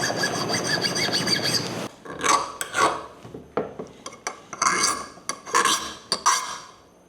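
A 60 Rockwell file scraping the D2 steel edge of a bushcraft knife, heard as a close, loud continuous rasp at first, then a run of short, separate scraping strokes.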